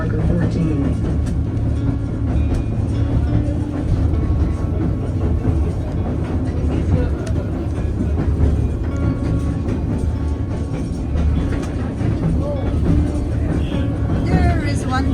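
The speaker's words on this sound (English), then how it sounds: "As we get back to Glacier Station, this time we will be passing 2 trains on our left-hand side." A White Pass railway train rolls past on the tracks near Skagway, Alaska, as a steady, loud low rumble with faint clatter throughout, mixed with voices and onboard noise.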